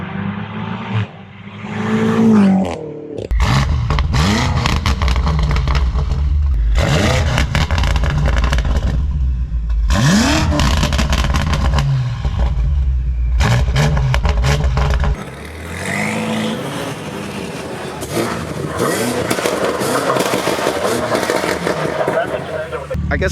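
BMW G80 M3 inline six with catless downpipes revving hard in repeated loud bursts, each climbing then dropping off, with short gaps between pulls and a rougher, quieter stretch of engine noise near the end.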